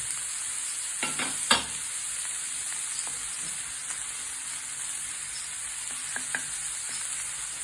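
Green chilies fry in a pan over medium heat for dried fish chutney, a steady sizzle running throughout with a few sharp scraping stirs near the start and again toward the end.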